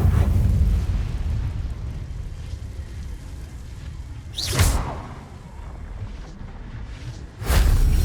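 Incendio fire spell cast in Hogwarts Legacy, a loud rumbling roar of flame opening, a sharp whooshing burst midway and another heavy blast at the end, with low ambient rumble between and no talk.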